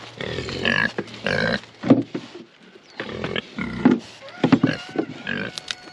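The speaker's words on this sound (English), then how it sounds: "Let me feed the big pigs. My pigs are following me, all right." Big pigs on a homestead grunt and snort close by at feeding time in repeated, uneven bursts. Brief pauses separate the groups of grunts.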